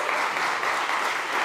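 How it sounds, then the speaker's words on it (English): Audience applause at a SXSW 2025 food summit session, a dense steady wash of clapping filling the room for the whole moment, loud and continuous with no voices over it. "Give him a round of applause, everyone."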